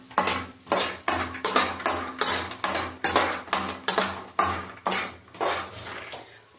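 A spoon clinking against a pan while lotus seeds roast, a quick series of sharp metallic taps and scrapes, close and loud, repeating in an uneven rhythm about twice a second with no talk.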